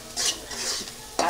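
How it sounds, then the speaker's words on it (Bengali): Onions and green chillies half-fried gently in oil in a pan, a soft sizzle broken by a few scraping stirs, with a sharper scrape near the end. "আমি আলতো আলতো করে আধা আধা ভেজে নিলাম পেঁয়াজ আর"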